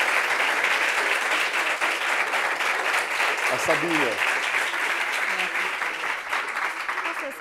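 A studio audience breaks into sustained applause for a guest named Sabine on a French television talk show, the steady clapping filling the room while a voice speaks briefly over it.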